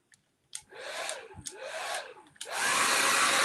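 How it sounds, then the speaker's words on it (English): A hair dryer blows in loud broadband bursts, sweeping up and down in pitch during the first two seconds as it is moved around, then settling into a steady, strong, close roar. "hit it with the hair dryer really quick"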